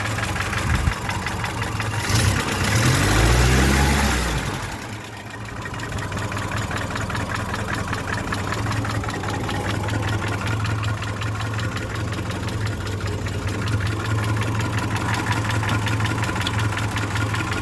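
A car engine idles steadily with a low rumbling drone and a fine ticking valve clatter, close and continuous, briefly swelling near the start before settling to an even idle.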